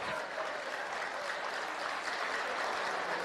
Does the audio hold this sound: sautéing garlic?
no